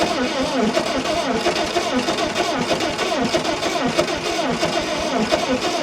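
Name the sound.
1962 Allis Chalmers dozer engine being started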